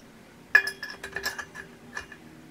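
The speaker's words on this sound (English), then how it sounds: "Now let's see if it fits inside the wheel bearings." Metal axle bolt for the front fork of a 125cc big-wheel drift trike being fitted into wheel bearings, a sharp metallic clink followed by a short run of light clicking and rattling taps, close and fairly quiet.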